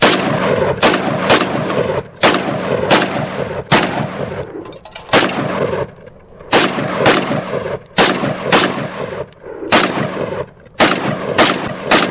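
Rapid sharp gunshots from an ATI Alpha Maxx hybrid 5.56 pistol crack in quick strings of three or four, loud and close, separated by short pauses.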